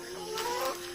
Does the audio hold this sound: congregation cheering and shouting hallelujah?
no